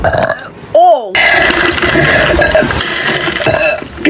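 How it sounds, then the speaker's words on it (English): A girl lets out a loud, close, croaking burp with a rising and falling pitch, preceded and followed by her own talking. "Burp right now, actually."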